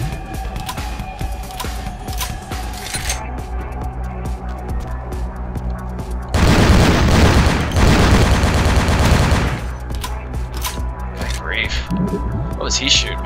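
Video game gunfire, a dense burst of rapid automatic shots that lasts several seconds in the middle, with background game sounds and talking before and after.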